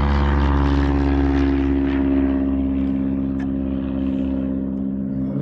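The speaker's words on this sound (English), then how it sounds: "What is that plane doing?" A propeller airplane flies low overhead near a hot spring, a loud, steady droning engine hum with a rich buzzing tone that holds for several seconds without speech.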